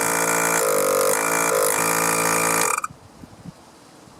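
A 12 volt air compressor, an inflator type, running with a steady buzzing motor drone for nearly three seconds before it cuts off, leaving a few faint clicks and handling knocks.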